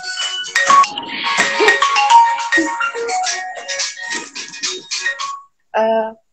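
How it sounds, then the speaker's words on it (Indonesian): A phone ringtone plays loudly and melodically for several seconds, breaks off, then sounds one more short burst after a brief gap. "Maaf ya Kak, tadi ada telepon."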